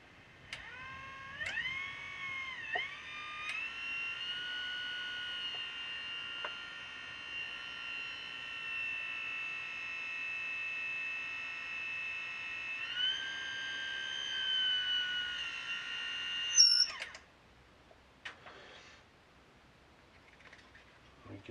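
A small electric track water pump spins up with a rising whine. It settles into a steady, high-pitched hum for about fifteen seconds, then cuts off, leaving faint room noise.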